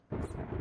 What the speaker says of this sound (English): That lightning isn't annoying at all.